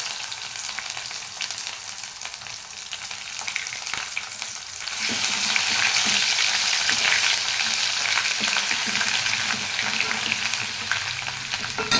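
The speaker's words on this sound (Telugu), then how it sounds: "ఇదిగోండి అల్లం వెల్లుల్లి పేస్ట్ వేసుకోవాలి." Ginger garlic paste sizzles in hot oil in a pan, a soft fry that swells into a louder, denser crackling hiss partway through and holds steady to the end, with no voices.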